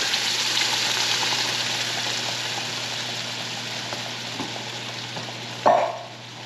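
A pan of tomato sauce and coconut milk being stirred over heat gives a steady, close sizzle with soft bubbling and faint scraping, then a brief louder clink or scrape near the end; no one speaks.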